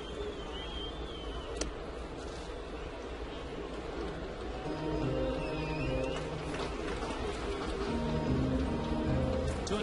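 Rain falling during a Florida Marlins baseball broadcast, a steady soft patter spread under a low crowd murmur, continuous throughout with no talk.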